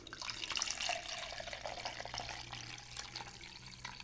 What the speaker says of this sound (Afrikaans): dan gooi ik water in